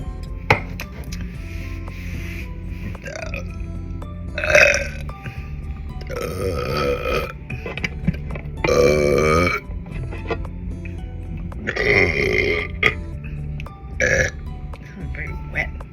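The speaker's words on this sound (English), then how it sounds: "Wet burps." Several loud, wet, gurgling burps after eating berries, coming at uneven intervals close to the mic, with soft chewing and rubbing noises between them.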